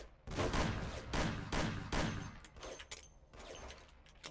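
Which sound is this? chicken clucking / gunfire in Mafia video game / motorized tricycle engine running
gunfire in Mafia video game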